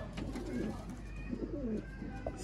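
Sialkoti pigeons cooing in a loft, several low rolling coos repeating through the moment over a steady background hum, with faint other bird sounds.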